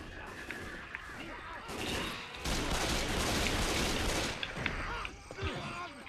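A mounted turret fires in Left 4 Dead 2 as a dense, loud, continuous barrage of rapid shots lasting a couple of seconds amid game noise, with players talking around it.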